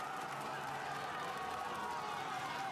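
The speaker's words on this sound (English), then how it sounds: "The crowd's absolutely manic for this race." Dense crowd noise from roadside spectators at the Muur cobbled climb in Flanders during a bike race, a steady, loud wash of cheering and shouting with no pauses.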